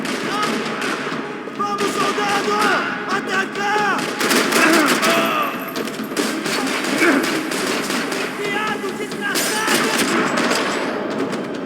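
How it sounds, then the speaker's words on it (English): Dense, continuous gunfire rattles throughout in a Max Payne 3 parking lot battle, rapid bursts and shots layered with shouting voices in a chaotic, game-like scene. "Another parking lot rattling with gunfire."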